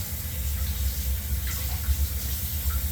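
Running tap water from a faucet flows steadily while bass fillets from a 3-pound largemouth are rinsed of blood and loose scales, a constant close splashing wash with no talking.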